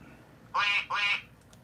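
A human voice imitates a duck with two nasal quacks in a row, close and clear over quiet room tone during a live scratch-off lottery stream.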